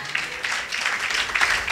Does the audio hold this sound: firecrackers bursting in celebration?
no